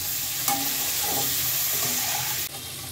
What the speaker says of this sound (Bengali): ফুলকপি কিন্তু খুব কড়া ভাজা যাবে না